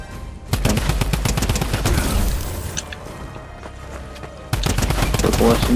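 Gunfire in Fortnite: rapid bursts of SMG or shotgun shots cracking out in quick strings, a pause with lighter shots midway, then another loud volley at the end, with a player talking now and then.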